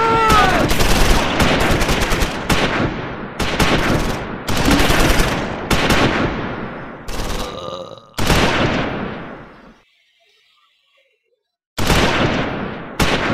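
Bursts of gunfire and machine-gun fusillades rattle through a Close Combat 5 Battle of the Bulge battle, coming in repeated loud clusters separated by short gaps and then a near-silent pause before a final burst.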